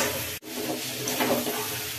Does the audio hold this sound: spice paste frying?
yes